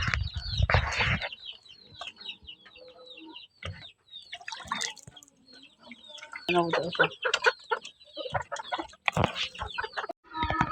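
Several chickens on a farm cluck and squawk nearby in uneven bursts while being given water, with a person briefly speaking and some faint splashing of water in the background.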